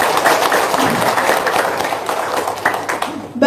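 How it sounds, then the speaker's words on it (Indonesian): A crowd claps at a gathering with hosts on stage, a short, loud burst of applause with a few voices mixed in and a sharper clap or two near the end. "Tepuk tangan dulu dong."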